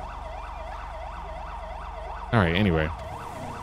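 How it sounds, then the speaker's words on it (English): Police siren in GTA 5 gameplay, a continuous rising-and-falling wail repeating steadily over a low engine hum, briefly covered by someone speaking near the end. "Siren, is that going off?"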